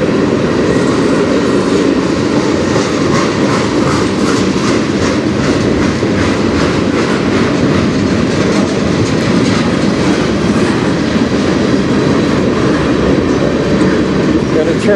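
A freight train of auto rack cars rolls past nearby on the Strathroy Subdivision, a loud steady roar with rhythmic clickety-clack from the wheels that carries on throughout.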